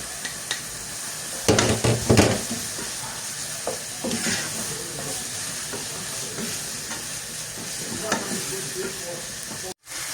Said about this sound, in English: There is no need adding oil because this steak already contains oil. So I'm just going to be adding my onions.